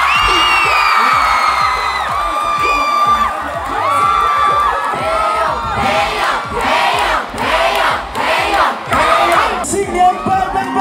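A large crowd at a Chinese New Year live concert roars, cheers and shouts for a requested song, loud and sustained with surging whoops and rhythmic pulses of clapping toward the end.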